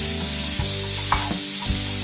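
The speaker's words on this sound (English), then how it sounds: "So I'm just basically going to stir this around a little bit" Bacon sizzles loudly and steadily in a pan for beef bourguignon, with a few soft stirring strokes heard over the constant hiss.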